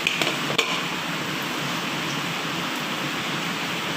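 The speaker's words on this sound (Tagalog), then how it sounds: "Ang ulan." Heavy rain falling outside during a rainy day, a steady dense hiss that holds evenly throughout, with a few faint clicks near the start.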